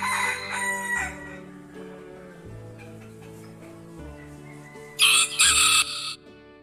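A hen or chicken sound effect plays over a light children's nursery tune. Bright bursts of fowl calling stand out loudly near the end above the soft musical tones.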